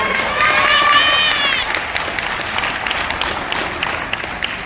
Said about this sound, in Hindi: भाई सभी के लिए ताली मारो, जबरदस्त